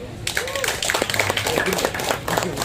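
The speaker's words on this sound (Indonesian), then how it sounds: "Tepuk tangan dulu" Audience clapping at a youth forum, a scattered patter of hands under voices talking nearby.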